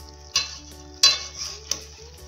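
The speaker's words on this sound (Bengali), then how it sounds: "এবার এটা একটু কিছু সময় একটু ফুটবে।" Pointed gourd masala curry bubbling in a pan, a soft steady simmer with a low hum beneath, broken by three sharp metallic clinks of a spoon against the pan, with no talking.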